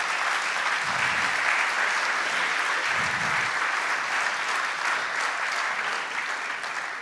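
A live audience at a startup pitching event applauds steadily for the pitch judges coming on stage, a dense, continuous wash of clapping that holds throughout with a couple of low thumps underneath.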